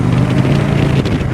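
Engine of an Indian Scout 101 motorcycle while riding, a loud continuous low rumble mixed with heavy wind noise, with no talk.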